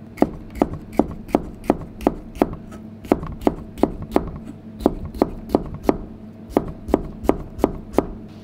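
Knife chopping sliced onion on a cutting board while preparing a fried yellowtail nanbanzuke dish, about twenty sharp, evenly spaced knocks in steady rhythm, close and clear with no talking.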